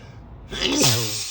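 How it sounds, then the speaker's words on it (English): A person driving lets out one loud, close sneeze after a brief quiet intake, with steady car cabin noise underneath. "Stop sneezing."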